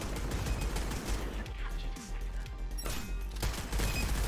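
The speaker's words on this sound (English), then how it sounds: "It took 3 point blank shotgun shots." Rapid point-blank shotgun blasts in a first-person shooter video game, loud sharp bangs repeating through dense battle noise with a voice talking over the gunfire.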